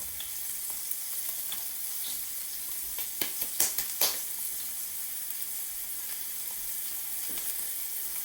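Floured veal cutlets frying in a pan hiss with a steady sizzle, punctuated by a cluster of sharp pops and spatters midway as pieces settle into the hot fat, with no talking.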